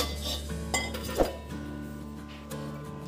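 Bowl set down and handled in a kitchen while making chana chaat: several light clinks and knocks of dishware and metal, one sharper clack near the middle, heard close and fairly quiet against a low steady hum.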